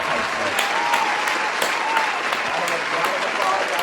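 A studio audience applauds a guest arriving on a talk show, with steady dense clapping throughout at moderate distance, no talking over it.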